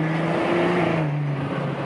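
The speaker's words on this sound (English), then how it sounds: "You guys heard the turbo, because the intake, the turbo that sounds nice too." A BMW F30 with an AP Racing intake and a BM3 tune runs its turbo, giving a loud, steady, close engine drone with a humming tonal whine that holds and shifts slightly in pitch.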